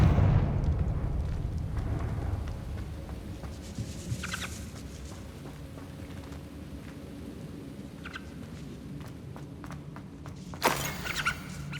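A Confringo explosion spell in Hogwarts Legacy, a deep rumbling blast at the start that rolls off into a low sustained roar, with scattered lighter game effects and crackles following.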